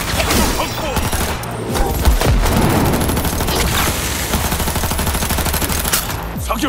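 Gunfire bursts from the video game Cyberpunk 2077: Phantom Liberty, with dense, continuous shooting running through the whole stretch amid booming game sound and mixed effects.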